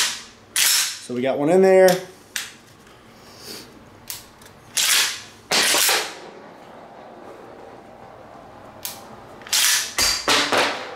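A SPAS-12 shotgun fires several loud, sharp shots at uneven intervals until it runs dry, and the bolt locks back with a mechanical clatter. Brief speech and handling noises come between the shots.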